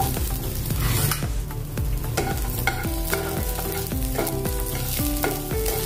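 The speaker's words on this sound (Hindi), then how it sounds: "थोड़े से तेल में इसको भूनना है, अदरक और लहसुन को।" Garlic and ginger fry in a little oil in a pan, sizzling steadily while a spoon stirs and scrapes, clanking against the metal in an irregular rhythm, close and fairly loud, with no speech.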